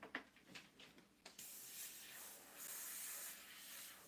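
An airbrush sprays orange paint in a steady, soft hiss, preceded by a few faint taps and clicks, and rising slightly louder toward the end.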